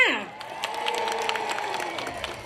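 Applause and cheering from a crowd, continuous and moderately loud, following a brief voice at the start.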